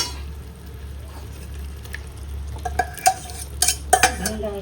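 Onions and tomatoes sauté in a pan under a low steady hum, with faint sizzling and a few scraping clinks of a spoon stirring toward the end.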